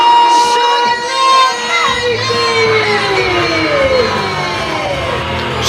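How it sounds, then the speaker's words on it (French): Wrestling arena crowd booing and shouting in displeasure, loud and sustained with whistles and jeers from many people at once. "Au grand mépris de la foule, ils sont mécontents."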